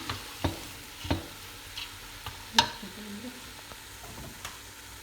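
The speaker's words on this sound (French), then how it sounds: "غادي نرميو العدس ديالنا وغادي نحركو الجميع." Lentils stirred in a cooking pot, heard as a handful of sharp scraping knocks spaced irregularly over a faint sizzle, with no talking.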